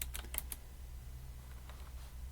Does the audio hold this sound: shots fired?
no